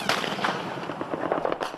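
Heavy gunfire in a war zone as rebel reinforcements arrive on a road near Tripoli, a dense, continuous crackle of rapid shots and bangs, loud and close, with no clear talk.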